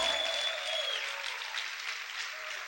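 Congregation applauding in a church worship service, a steady wash of many hands clapping that fades slightly toward the end, with a faint sustained tone over it and no speech.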